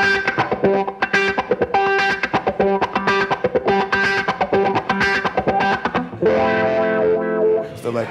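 Electric guitar played through a wah pedal in the middle pickup position, a loud run of distinct notes and chords with a sweeping tone, closing in a longer sustained, distorted phrase.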